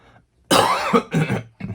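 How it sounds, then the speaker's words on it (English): A person coughs several times in quick bursts, close and loud, with brief pauses between, followed by a short final cough. "I still have a cough"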